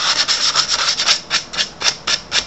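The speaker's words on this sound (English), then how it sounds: "Now, here's the way it works with sandpaper" Sandpaper rubbed across a wooden surface by hand, loud and close, in roughly a dozen regular back-and-forth strokes with a brief squeak now and then.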